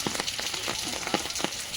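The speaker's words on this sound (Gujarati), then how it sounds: "વરસાદ થયો ને આવન મજા આવી ગઈ." Rain falls steadily, a dense patter with scattered louder drops striking a nearby surface, close and alone.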